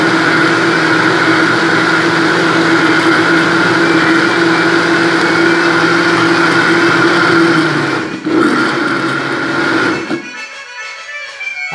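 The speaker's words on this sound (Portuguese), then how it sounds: "Então, agora eu vou bater esse tomate meu." A blender purees organic cherry tomatoes for sauce with a loud, steady motor whir close by. It runs for about ten seconds, falters briefly, then winds down and stops.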